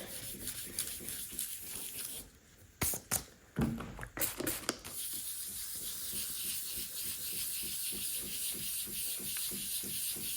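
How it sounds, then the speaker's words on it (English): Steady scratchy sanding strokes rub back and forth on a damaged high-gloss furniture top, briefly interrupted by a few louder bumps and handling noises before the rhythmic sanding resumes. "So let's sand this area a little bit more"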